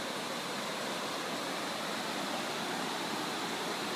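A steady, dense roar of falling water at Red Rock Falls near a river and hot spring, loud and continuous, with no voices over it.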